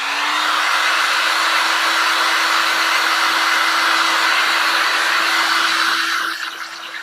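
Heat gun blowing hot air over an encaustic wax painting, a loud, steady roaring whoosh with a faint motor whine that runs continuously and drops off just before the end.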